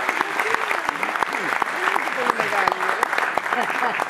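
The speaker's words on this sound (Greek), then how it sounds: "Θέλω ένα θερμό χειροκρότημα" An audience claps warmly and continuously, a dense crowd applause with voices speaking over it, at a tribute concert for a composer.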